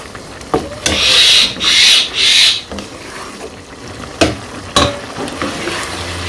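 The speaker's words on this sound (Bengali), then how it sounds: "পুরকল তো কষাইতে দিছি, আর পুরকলের থেকে তো জল উঠছে" Pointed gourd sautéing in a pan over a village cooking fire, with loud bursts of scraping, stirring strokes and a soft sizzle running underneath between them.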